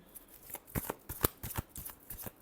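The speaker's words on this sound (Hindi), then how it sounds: "last shuffle" A deck of tarot cards shuffled up close, a short run of soft, irregular riffling taps and slaps lasting a couple of seconds, with no voices.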